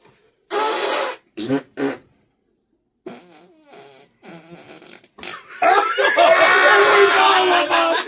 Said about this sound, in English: Guess my fart.